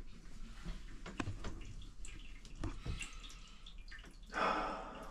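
Water drains from a toilet after it is pumped, heard as faint dripping and trickling that ends in a brief gush, with quiet surroundings.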